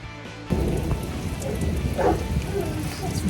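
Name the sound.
heavy rain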